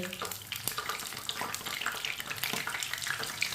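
Pakoras frying in hot oil while being flipped and turned, a steady close crackling sizzle with wet bubbling hiss and occasional small clinks, no talking.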